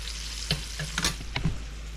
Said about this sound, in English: it's been about 5 minutes of frying time